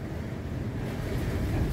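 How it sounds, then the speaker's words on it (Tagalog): Strong typhoon wind roaring steadily near Tardisia, Guinobatan, Albay by Mayon Volcano, a dense low rumble of gusts buffeting the microphone with no pauses. "Yan ang lakas ng hangin"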